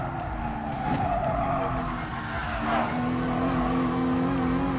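A race car in Gran Turismo Sport brakes hard and skids, tires squealing over a steady engine drone, loud and continuous throughout.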